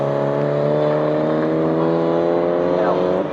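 The number 4 BMW race car at Snetterton gives a sustained, loud, tonal engine drone as it dives into the pit lane, with the pitch sliding slightly near the end.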